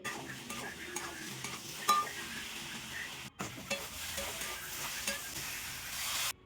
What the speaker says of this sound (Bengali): বেশ কিছুক্ষণ ভেজে দেব ভেজে রাখা কুমড়ো আর আলু